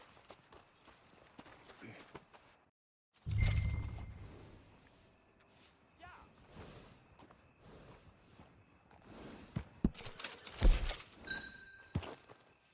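A horse in the Red Dead Redemption 2 video game, with scattered hoof clops and thuds, a snort and shuffling movement, mostly faint with a few louder knocks.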